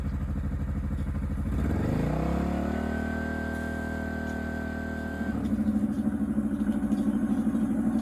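A Honda XL700 Transalp motorcycle engine runs close by, idling with a clattery mechanical tick, then rising in revs into a steady higher hum before settling back to a lumpy idle.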